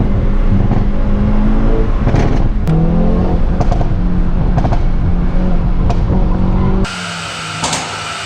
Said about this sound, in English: It's a fantastic exhaust system, and active, so you can turn it off.